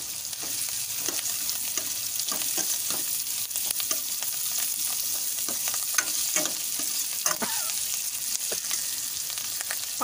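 Green chillies and coriander leaves frying in a pan for prawn kulambu, a constant close sizzle with regular scraping stirs ticking through it, no voices.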